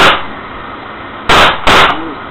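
Two sharp, loud bursts in quick succession, close by, each cracking out over a hissing background.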